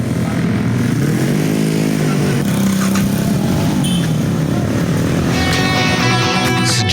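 Motorcycle engines rev and drone loudly and continuously as riders turn around and speed away from a police checkpoint in Durensawit, East Jakarta, with busy street traffic and faint voices mixed in.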